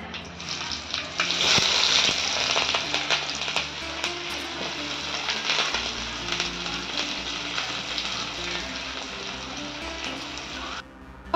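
Onions frying in oil for a Tamil-style kanava (squid) dish, a steady loud sizzle running continuously with stirring scrapes and clinks throughout, no talk.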